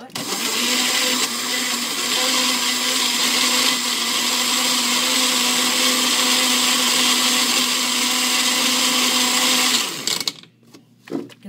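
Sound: Magic Bullet blender mixing a shake

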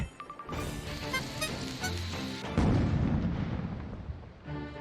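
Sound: explosion in the 123Boom slot video game

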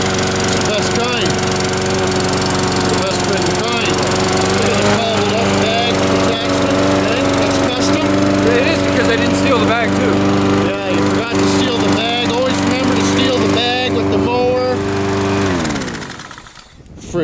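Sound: lawn mower engine running

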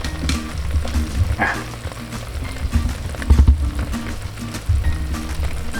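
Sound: barbecue-marinated Kurobuta pork ribs sizzling from air fryer

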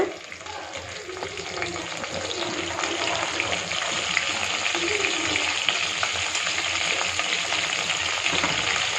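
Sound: mustard, urad dal, fenugreek, dried chillies, curry leaves frying

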